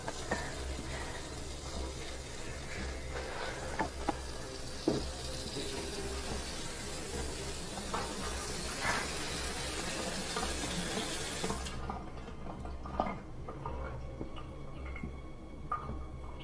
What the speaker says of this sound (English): Oh my God, the water just turned on.